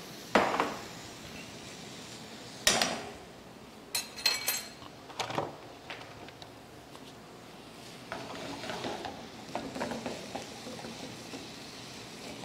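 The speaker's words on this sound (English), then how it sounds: "Just browning my meat." Seasoned mince meat with pimento peppers browns in a pan as stuffing, with occasional utensil scrapes and clatters over a soft, steady sizzle that rises slightly toward the end.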